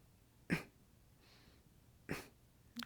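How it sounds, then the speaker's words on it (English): A quiet, deliberately held-in cough used as a deep core activation exercise in a Pilates session, heard as two brief muffled bursts about a second and a half apart, close and soft with no talk. "So you're trying to cough, but keep it more internal."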